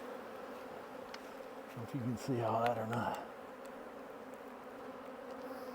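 Honey bees crowd a hive box during a split, their buzzing a steady drone that swells briefly as someone speaks close by.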